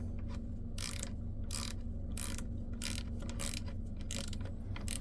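A 1/4 inch cap on a flex ratcheting wrench clicks in quick bursts, about eight short ratcheting runs with gaps between, close-up over a low background hum.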